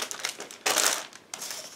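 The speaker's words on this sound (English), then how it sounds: "Now just give me a second to remove all plastic sprues from the plastic bag." Thin plastic bag crinkling and crushing as large plastic sprues from a 1/35 scale Miniart Su-122 model kit are pulled out, in close, irregular bursts with a louder rustle mid-way and another starting near the end.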